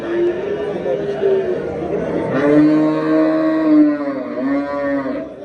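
A cow moos loudly nearby, long drawn-out calls overlapping with people chattering in the background.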